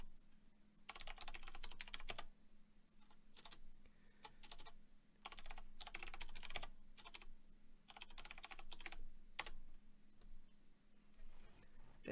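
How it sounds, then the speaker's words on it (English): Keys on a computer keyboard clatter in repeated bursts of quick typing, with short pauses between runs, close and moderately loud over a steady low hum. "I can type in a command."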